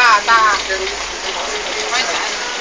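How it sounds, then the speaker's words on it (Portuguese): Heavy rain pours down outdoors in a steady, loud hiss of falling water, with someone talking over it close by. "Muita chuva hoje aqui, menina. É água com força."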